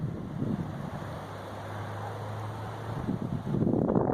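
Wind blowing across open mountain pastures on a warm day, a steady rushing buffet against the microphone with a low broadband roar that swells a little toward the end.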